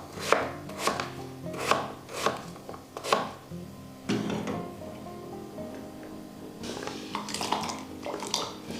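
Vegetables being chopped on a cutting board in a home kitchen, about ten sharp knife strikes in an uneven rhythm, close and fairly loud, followed by a stretch of duller clatter and scraping.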